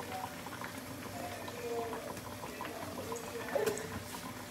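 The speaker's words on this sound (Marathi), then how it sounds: "तर पाण्याला मस्त उकळी येऊ द्यायची." A pot of plain water coloured with chilli powder coming to a boil, with a soft continuous bubbling and faint clinks, quiet and steady with a brief louder burst near the end.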